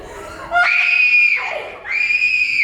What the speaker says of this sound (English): suddenly she's up and screaming